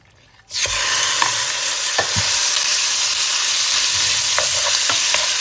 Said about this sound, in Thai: ตั้งหม้อนะคะ เราก็จะใส่ หมูลงไปนะคะ